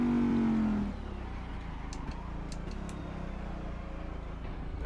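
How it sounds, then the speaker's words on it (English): A Daytona Prototype racing car engine in Assetto Corsa at Midfield Raceway roars at high revs, a steady, gritty drone that drops slightly in pitch after the first second. "just listen to that engine. The engine just sounds so grumbly, so fierce,"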